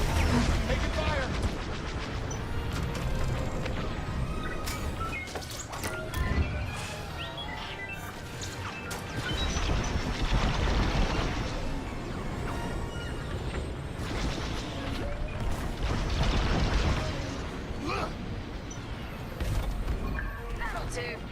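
Dense starfighter blaster fire and explosions in the Star Wars Squadrons video game, a loud continuous barrage of rapid shots and blasts, with a voice talking over the combat at times.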